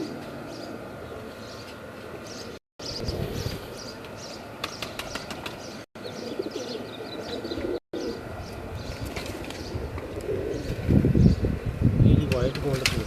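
White gold pigeons coo softly at a home loft, with faint chirps and fluttering mixed in, while people talk nearby over steady background noise.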